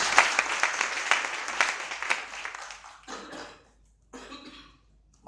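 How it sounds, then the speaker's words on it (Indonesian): Congregation applause at a church worship seminar, a dense burst of clapping that fades over about three seconds into quieter scattered sounds and a cough. "Yang percaya berikan tepuk tangan buat Tuhan Yesus"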